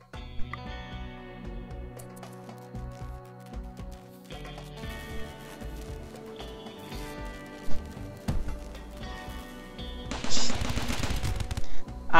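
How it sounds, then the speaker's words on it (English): Automated gun turrets firing in RimWorld, bursts of rapid gunshots in irregular volleys, mid-distance, growing denser and louder toward the end, heard alone without talk. "I guess I should probably turn on the guns."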